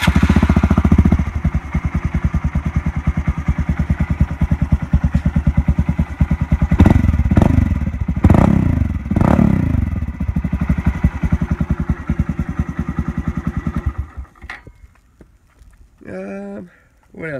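A Honda Grom motorcycle cold-starts and idles with a loud, steady, rapid single-cylinder putter and a few revs before cutting out, followed by quieter handling noises.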